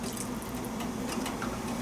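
Water scooped out of a pot of dal, a short watery slosh and trickle with a few light drips, close and soft.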